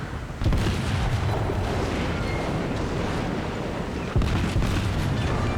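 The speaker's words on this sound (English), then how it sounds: "this salvo should finish this guy" Heavy naval guns fire a salvo in a warship video game, with booming blasts and rumbling explosions rolling over a constant low roar of sea and battle noise, and a second loud burst near the end.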